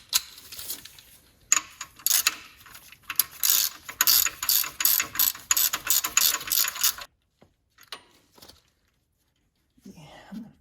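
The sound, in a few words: ratchet tightening the adjuster bolt on an RB26DETT engine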